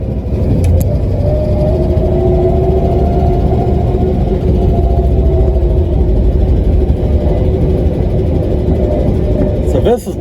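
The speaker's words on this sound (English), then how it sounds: "So this is the first time in 47 years this Falcon has been driven on the road." A 1964 Ford Falcon engine running steadily on its first road drive in 47 years, a loud continuous drone heard from inside the car with a faint whine, holding constant for the whole stretch.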